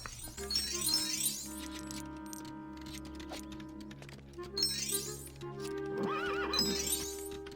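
A horse in the video game LEGO Indiana Jones 2 whinnies twice over steady hoof clip-clops and a layered synthetic game soundtrack, the neighs loud and close.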